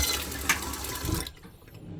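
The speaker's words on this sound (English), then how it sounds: "turn this on to make sure the water pump is turned on so you get some water flow" Water pump in a camper van running as water flows from the tap, a rushing gush that cuts off abruptly partway through, leaving a quiet hum.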